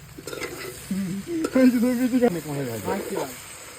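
Tomato ketchup goes into pasta frying in a pan at an outdoor picnic, with liquor also added. Sizzling and stirring run steadily beneath people talking nearby.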